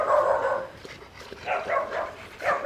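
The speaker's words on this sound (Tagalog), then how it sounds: "Tumatahol lang." A dog barks several times in short bursts, fairly close, with a brief pause in between.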